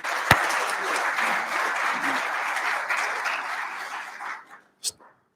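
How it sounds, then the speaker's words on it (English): An audience at a 2021 faculty and staff service awards ceremony claps for a retiring staff member, a full round of steady applause from a crowd that carries on for several seconds, then thins out and stops. "Let's give him a big round of applause."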